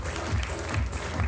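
Audience applause at a corporate brand award ceremony in India, a brief, loud, dense burst of clapping from a crowd with a roomy wash of noise.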